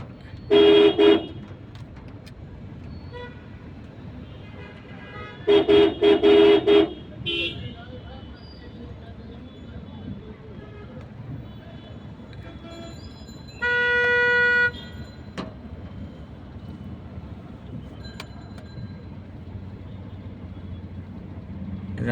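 Car horns honk in a rainy traffic jam among rickshaws and cars, with a few separate toots spread over a steady background of rain and traffic, and a voice talking faintly in between.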